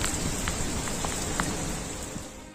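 Heavy rain falls in the Gulf, a dense, steady hiss of downpour hitting surfaces, with a few louder drops standing out in the constant wash.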